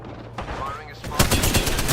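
Gunfire in the battle royale shooter Apex Legends, with a quieter stretch followed by a rapid burst of loud repeated shots, with a voice talking during it.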